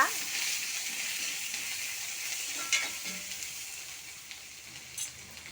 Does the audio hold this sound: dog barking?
no